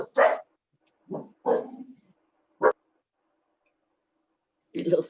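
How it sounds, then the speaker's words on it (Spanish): Several dogs barking in short separate bursts, a few sharp woofs spaced across a few seconds with silence between them, fairly close and clear. "Esos son mis perros"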